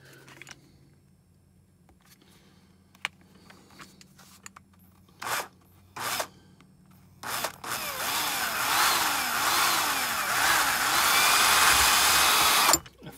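A power drill bores a hole into a metal mandrel for a homemade 410 shotshell roll crimper. A few short whirring bursts come first, then the drill grinds loudly and steadily through the material for several seconds before stopping abruptly.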